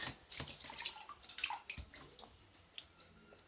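A baby's first bath: water sloshes and splashes close by in a tub. The splashes are gentle and come in irregular bursts over a quiet background.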